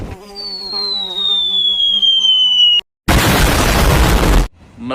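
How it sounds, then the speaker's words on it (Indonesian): Explosion in a video game, a loud broadband blast that lasts about a second and a half and cuts off sharply, following a whistling descending tone with a voice underneath. "Meledak."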